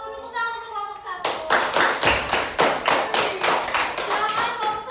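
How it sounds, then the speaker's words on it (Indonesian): Children in a classroom break into group clapping after a voice trails off, settling into a fast, rhythmic unison beat of hands close by, loud and regular to the end. "Tepuk tangan untuk kelompok 1."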